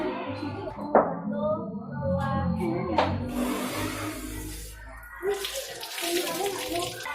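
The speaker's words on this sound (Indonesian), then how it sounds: "Sekarang keran dibuka." Water runs from an opened tap in a washing activity with children, a steady rushing flow heard under several voices counting and talking throughout.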